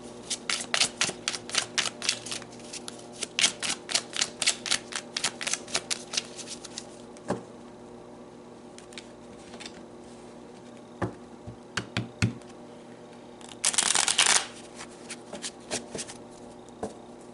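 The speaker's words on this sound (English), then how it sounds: "So let's pull some more cards." Tarot cards are shuffled in quick riffling bursts for several seconds, then a few soft single card draws and slides follow. Near the end comes one brief, louder shuffle. No one speaks.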